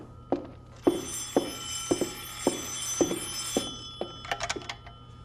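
An old-style telephone bell rings at a ranger headquarters in a regular series of short bursts, moderately close, with no talk over it.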